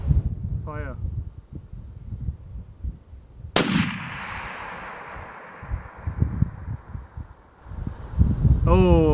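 .338 Lapua Magnum rifle fired at a target 2,100 meters away outdoors, one sharp, loud crack followed by a long, fading rumble over wind noise, with people talking before and after.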